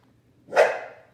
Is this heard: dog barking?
yes